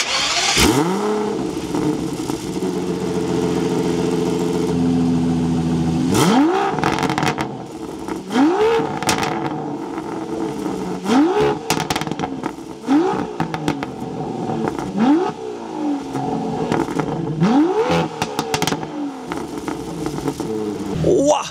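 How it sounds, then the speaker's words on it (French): An Aston Martin V12 Speedster with the microphone at the rear: the engine cranks and fires, settles into a deep idle, then gives about seven sharp revving blips in a steady rhythm, loud and close with no talk. "Je vais mettre le micro derrière, démarrer la voiture et donner 2-3 revs pour que vous entendiez le bruit."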